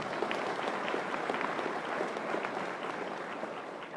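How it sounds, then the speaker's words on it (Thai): An audience applauds at a Thai seminar on property investment and asset building, a steady even wash of many hands clapping at moderate distance, continuous throughout without speech. "ขอเสียงปรบมือดังๆให้กับคุณด้วยนะครับ"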